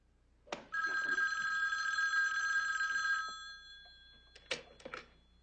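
A telephone rings with a single long, bright bell ring that fades out, followed by a few short clicks and knocks, quiet and fairly close.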